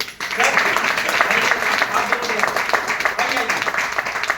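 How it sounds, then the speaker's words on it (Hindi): Audience applause in a hall for first-time attendees called up on stage at a motivational business meeting, a steady dense wash of clapping with a voice speaking over it. "एक बार जोरदार तालियां होनी चाहिए इनकी।"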